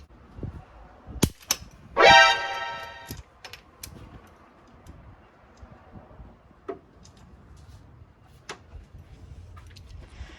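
Metal cam caps clinking and clattering as they are pulled off a Honda engine during a backyard LSVTEC conversion, with sharp isolated clicks and a brief ringing rattle, close and fairly quiet between clacks.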